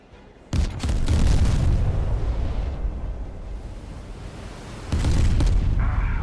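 Ship cannons firing and shells exploding in the naval video game Steel Ocean: a heavy boom opens into a long rumbling roar, then a second loud blast hits near the end.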